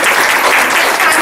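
Loud, dense applause from an audience for a bhajan group at a Ganesh festival gathering, continuous clapping throughout with no pauses and no speech over it.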